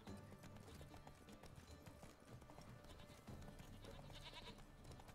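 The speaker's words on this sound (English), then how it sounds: "There are goats in the way." Goats bleating amid rhythmic hoof clip-clops in The Witcher 3: Blood and Wine, fairly faint and mixed with game ambience, several overlapping calls across a few seconds.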